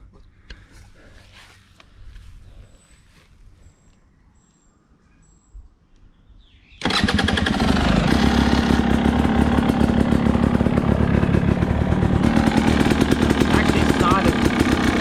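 A Husqvarna TE250 two-stroke motorcycle on its first start with the choke on, after a jetting kit install. Quiet handling noises give way to a sudden loud, busy engine that keeps running steadily at a high, raspy idle.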